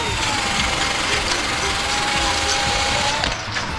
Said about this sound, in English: Anywhere that it's dirty, you hit it with the wire wheel.